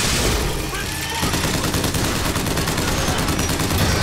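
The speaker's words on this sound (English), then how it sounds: "It's the crank gun." The crank gun, a hand-cranked machine gun in Bioshock Infinite, fires a loud, rapid stream of rounds with a rattling rhythm. It runs continuously through the moment, with combat noise around it.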